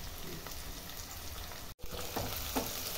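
Onions, green chillies and mint fry in a pan with a steady close sizzle and a few stirring scrapes, with no talk over it.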